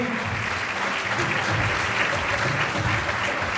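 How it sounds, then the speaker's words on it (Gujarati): An audience at a religious pilgrimage gathering breaks into loud, sustained applause, a dense even wash of clapping with no talking. "ખરેખર આપણે જે તાળી લગાડીને બહુ મામૂલી હતી, એકવાર જોરદાર વાગવી જોઈએ."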